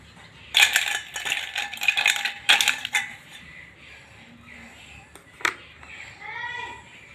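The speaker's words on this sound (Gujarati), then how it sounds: "આઈસ નાખીશું." Ice cubes clatter into a glass of paan rose drink in a few bright clinking bursts, loud and close, followed by scattered smaller clinks and a soft voice.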